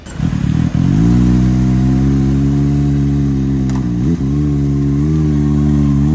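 A scooter-style motorbike cruises at speed on a road in Thailand, its engine drone loud and steady with a slight pitch dip partway through, close up and without voices.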